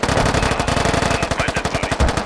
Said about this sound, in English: there's someone shooting down the bridge